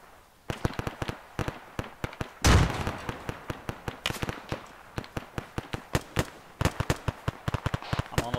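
Gunfire and a frag grenade blast in the ArmA 3 video game, aimed at trees ahead. Dense rapid shots crackle throughout, and one heavy booming burst lands near the middle.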